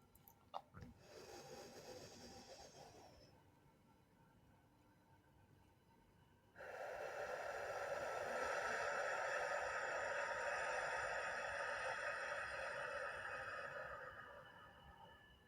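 Slow breathing exercise with a long exhale through the mouth, the breath rising to a steady airy rush that holds for several seconds before easing off, close and alone with no talk.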